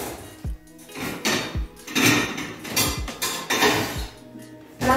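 A cooking pot is handled at a kitchen stove to put water on to boil, giving a series of close metallic clanks and knocks at irregular intervals.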